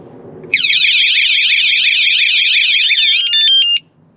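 A van alarm sensor blares at close range, loud and piercing with a warbling electronic tone, sounding steadily for about three seconds and then cutting off abruptly.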